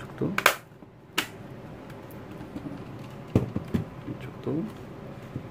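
Plastic cover clips on a Samsung R480 laptop snapping into place under hand pressure, a few sharp close clicks spaced apart amid quiet handling noise, with a voice talking.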